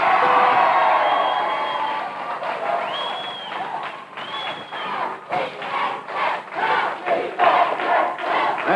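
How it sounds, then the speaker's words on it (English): An excited crowd at a high school quiz show cheers and shouts loudly, with whoops, applause and bursts of voices rising and falling over several seconds. "Excited crowd."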